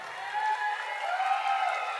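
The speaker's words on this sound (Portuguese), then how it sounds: "Cadê as palmas para a professora?" An audience at a Spanish and English exam-prep lecture applauds the teacher, a continuous wash of many hands clapping at moderate loudness for about two seconds.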